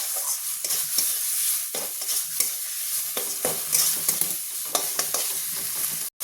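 Fried fish being stir-fried in masala in a pan for a village-style fish and taro masala fry: a continuous oily sizzle broken by repeated scraping, stirring strokes of a spatula at an irregular rhythm, close and fairly loud, with no talking.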